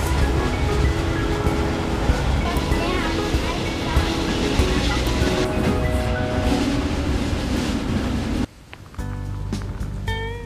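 A steady loud rumble and rattle of a train ride heading back from a station in the Black Forest, continuous throughout before cutting abruptly near the end to a quieter stretch with faint tones.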